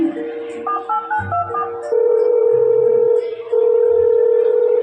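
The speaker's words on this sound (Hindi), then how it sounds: "अरे फोन लगाकर पूछ तो लूँ कि वो घर पहुँचा कि नहीं।" A telephone being dialed: a quick run of keypad tones, then a steady dial tone that drops out briefly and resumes, loud and close, with a faint voice at the start.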